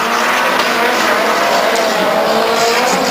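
A Pontiac Solstice drift car with an engine based on a 1300-horsepower GM drag motor roars loudly and continuously at a D1GP All Stars 2006 drift event, with tire squeal blended into the dense engine noise.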